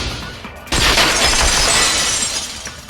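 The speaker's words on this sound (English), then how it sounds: "heard the sound of the window shattering" In Danganronpa 2: Goodbye Despair, window glass shatters suddenly and loudly after a brief quiet moment, followed by a bright, scattering crash of falling shards that slowly fades.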